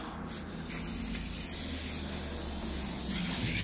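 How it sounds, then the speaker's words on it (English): Degreaser sprayed from a can onto a Shimano hydraulic disc brake makes a steady, close hiss lasting about three and a half seconds, without talk. "Just spray it on there, wipe it all off."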